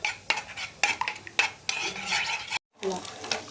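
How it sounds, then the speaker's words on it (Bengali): Half a spoon of garlic paste frying in oil in a pan on a stove while being browned, with repeated scraping and stirring clatter from a utensil over a soft background sizzle, with one brief drop to silence. "রসুনটাকে একটু লাল করে ভেজে নেবো"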